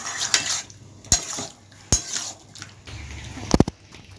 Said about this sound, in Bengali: দিয়ে মশলার সঙ্গে ভালোভাবে কষিয়ে নেব।